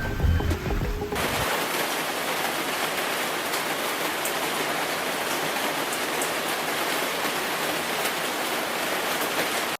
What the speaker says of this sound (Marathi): हे बघा, पाऊस सुरू झाला. थेंब थेंब पडतात